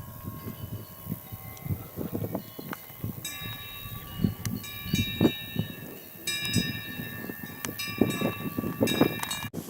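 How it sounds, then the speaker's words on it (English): Bells ring repeatedly in the background in Switzerland, clanging at an uneven pace over a steady rumbling, clattering noise. "The bells in the background."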